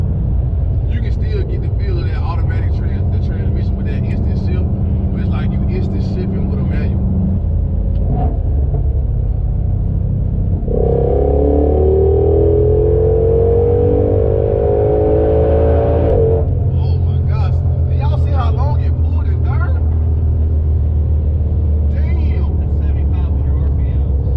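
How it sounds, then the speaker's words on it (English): A 2021 Ford Mustang Shelby GT500 engine rumbles loudly from inside the cabin, revving up through rising tones before dropping as it shifts, with voices speaking intermittently. "I love the way this car shifts, man."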